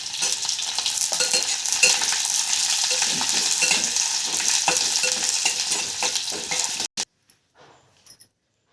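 Onion, green chili, garlic and ginger fry in a pan with a loud, continuous sizzle, broken by occasional stirring scrapes, until it cuts off abruptly and leaves a few faint clinks.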